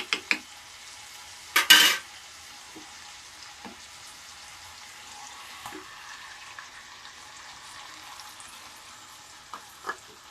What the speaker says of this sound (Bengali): সিমে দিয়ে টক দইটা নেড়ে নিচ্ছি